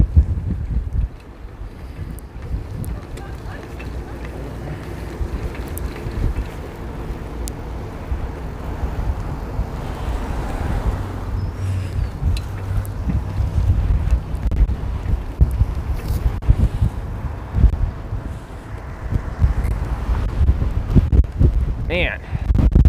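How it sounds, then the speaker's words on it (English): Strong gusty wind buffets the microphone of a cyclist riding through Cheyenne, a low rumbling roar that surges and drops throughout, while someone talks over it. "this wind is nasty"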